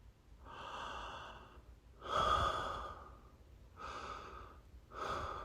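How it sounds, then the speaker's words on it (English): Deep, demonstrative breaths drawn through the nose and mouth, four slow audible inhales and exhales spaced a second or so apart, close and fairly quiet. "Just like you hear this sound when I breathe, that's the way you got to breathe."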